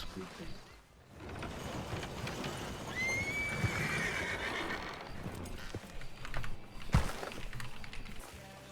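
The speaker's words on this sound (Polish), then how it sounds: "Cóż ten koń tu robi? A nie, to jest mój koń." A horse neighs in a Red Dead roleplay game, a rising whinny standing out over busy in-game background noise and footsteps, with some talk around it.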